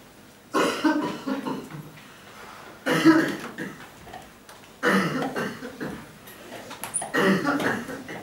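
Repeated harsh coughing bursts in four separate fits spaced a couple of seconds apart, loud and close, with throaty rasping in each burst.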